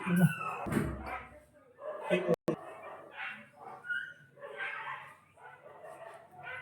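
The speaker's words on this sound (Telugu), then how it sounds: "కుక్కలేంద్ర అట్లాడుస్తున్నాయి" Dogs playing outdoors, giving scattered short barks, yips and whimpers at moderate distance, with a sharp slam partway through and people talking throughout.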